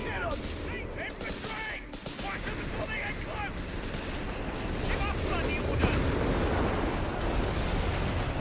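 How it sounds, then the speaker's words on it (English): A high explosive artillery barrage in the video game Company of Heroes 3, a dense rumble of blasts and gunfire that swells louder toward the end, with a voice talking over it early on. "high explosive barrage"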